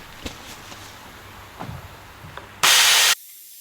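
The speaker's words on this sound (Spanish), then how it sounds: "vamos a limpiar todo esto, vamos a aspirar todo esto" Suction tool clearing out the engine bay of a Porsche Cayenne with an oil leak: faint clicks and knocks, then a loud, steady rushing hiss that lasts about half a second and cuts off abruptly.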